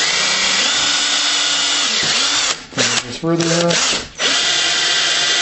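A power drill with a 5/16 inch bit whines steadily, then bores through clogging material in short stuttering bursts, motor dipping and revving near and loud, with a brief spoken word partway.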